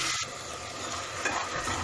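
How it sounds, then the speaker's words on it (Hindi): Turmeric, garlic-chili paste and salt fry lightly in oil for radish bhujiya, a brief close hissing sizzle with a faint stir partway through. "हल्का सा फ्राई करेंगे इसको।"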